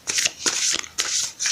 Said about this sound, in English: Now I can't shuffle this deck because it's so stiff and hard.